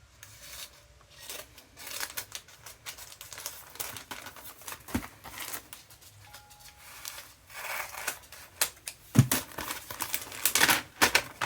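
Scissors snip through paper for scrapbooking, giving a series of short, crisp cuts and crinkles close by, irregular in rhythm and growing busier toward the end.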